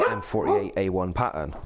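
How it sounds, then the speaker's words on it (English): A dog barks in short bursts close by, mixed in under someone talking steadily over it. "Excuse the dog."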